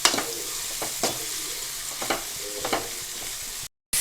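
Chopped tomatoes roast in a hot pan for chicken liver sukka, giving a soft steady sizzle broken by a few sharp stirring scrapes, close up and without talk.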